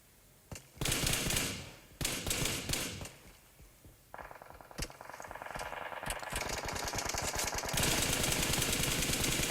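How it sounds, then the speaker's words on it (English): Rapid automatic gunfire crackles through a PUBG battle royale match, with repeated loud bursts and sustained strings of shots from several teams firing at one player, dense and continuous toward the end. "SK Hacker is being shot at by both the CGN team and the Union team"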